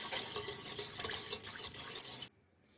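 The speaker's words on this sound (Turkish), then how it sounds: "Şeker ve maya erinceye kadar çırpıyoruz." Oil, warm milk, sugar and yeast being whisked in a bowl, a brisk rapid swishing and clinking close up with short dips in rhythm, stopping abruptly into near silence.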